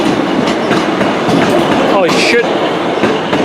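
A TransPennine Express Class 185 diesel train rolls past at Manchester with steady rail rumble, clickety-clack and a brief wheel squeal, loud and close; someone speaks briefly over it.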